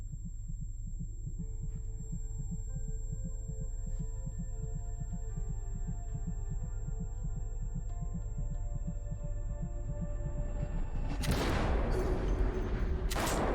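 A steady, thudding heartbeat sound effect from a television drama pulses evenly under a low hum, then is swamped near the end by a sudden loud burst of noise.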